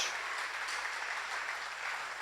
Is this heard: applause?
yes